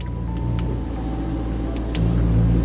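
A BMW E90 M3 fitted with a new intake and exhaust idles with a deep, steady rumble, its exhaust valves open, and swells slightly louder toward the end.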